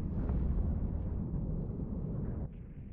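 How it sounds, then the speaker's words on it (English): A bomb blast in a naval battle video game among battleship wrecks rolls out as a loud, sustained low rumble that lingers for several seconds and drops slightly near the end, with no voices. "Someone got bombed."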